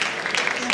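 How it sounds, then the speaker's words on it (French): An audience applauds at a talk on sport in higher education, a brief dense patter of clapping from a crowd heard close and fairly loud. "je vous demande également d'applaudir notre atout charme et sport également."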